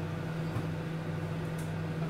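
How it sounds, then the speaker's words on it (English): A microwave oven hums steadily while heating frozen jacket potatoes, a quiet, even electrical drone with no other sounds over it. "I'm going to put those in the microwave for about 7 minutes"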